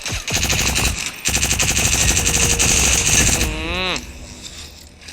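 Rapid automatic gunfire in the mobile battle royale game Cyber Hunter, loud sustained bursts of machine-gun shots with a brief gap, ending in a falling mechanical whine and quieter background noise.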